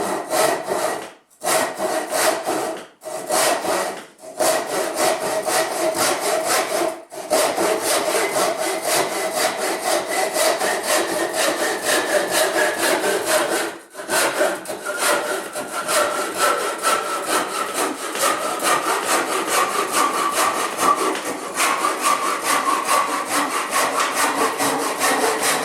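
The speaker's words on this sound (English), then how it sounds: "This is a kind of Carpenter saw that I grew up watching my father use." A carpenter's handsaw cuts through wood in long steady rasping strokes for the whole stretch, broken by a few brief pauses, with the tone shifting slightly as the cut nears completion.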